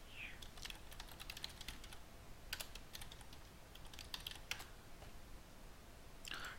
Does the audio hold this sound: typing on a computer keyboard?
yes